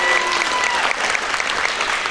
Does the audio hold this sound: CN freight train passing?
no